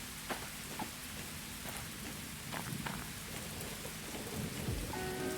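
Steady rain hisses in the video game Derail Valley, with low thunder rumbling underneath and a few sharper drips, all continuous and fairly faint.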